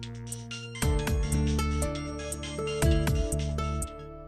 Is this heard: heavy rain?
no